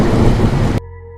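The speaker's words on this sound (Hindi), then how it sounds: "बाहर घने अंधेरे में बारिश के बीच" Heavy rain pours as a dense, loud hiss of falling water for under a second before cutting abruptly to a faint, low tonal hum; it serves as a sound effect in a Hindi horror story.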